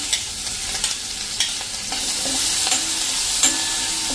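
Finely chopped medium-size onion frying in hot tempering oil over a medium flame, a continuous close sizzle broken by scraping stirs and clinks of a spoon against the pan, without any talking.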